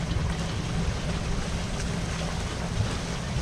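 A sailboat's auxiliary motor idles steadily at anchor in Scotland, a low continuous rumble mixed with water and wind noise, even and unbroken throughout.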